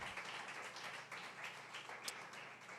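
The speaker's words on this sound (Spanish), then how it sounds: "Aplauda la gloria de Dios." A worship congregation applauds with a soft, continuous spread of hand claps, fairly even in level and heard from a modest distance.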